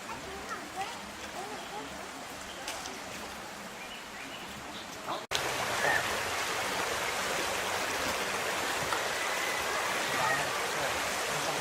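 Hot water piped down into a village flows and splashes steadily, a broad rushing wash that grows louder partway through and continues alone.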